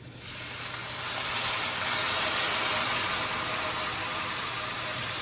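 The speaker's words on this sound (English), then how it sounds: "we're actually gonna deglaze this with beef stock" Beef stock poured into a hot pan to deglaze it for beef stroganoff, a loud steady steaming hiss that swells in the first second and holds, close and alone.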